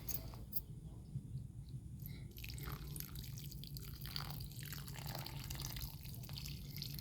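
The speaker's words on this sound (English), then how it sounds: "So let's water 'em." Water drips and splashes softly onto potted plants from close by, in short irregular bursts over a quiet steady background.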